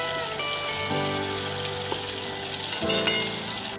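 Mustard-poppy seed paste goes into ridge gourd cooking in a hot pan, giving a steady, close sizzle and crackle with faint tonal sounds in the background.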